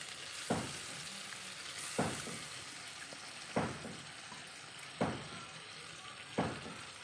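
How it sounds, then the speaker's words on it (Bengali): Slit green chillies, chopped tomato and cumin paste hit hot oil left from frying puti fish, giving a steady loud sizzle broken by a spatula scraping and stirring the pan about every second and a half. "আমি ওই তেলে দিয়ে দিচ্ছি চেরা কাঁচা লঙ্কা আর এই যে টমেটো কুচি আর দিয়ে দিচ্ছি জিরা বাটা"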